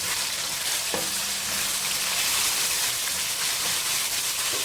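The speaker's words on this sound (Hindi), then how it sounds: "चिकन अच्छी तरह से फ्राई हो चुका है" Small chopped chicken pieces fry in a pan of hot oil, a steady close sizzle running throughout with a single utensil knock early on, no voices over it.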